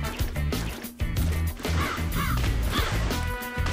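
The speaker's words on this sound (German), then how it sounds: "Die hören sich alle an wie Krähen. Das passt überhaupt nicht." Creatures in the video game Tasty Blue giving harsh, crow-like cawing calls, several cries in quick succession over loud, busy game music and sound effects.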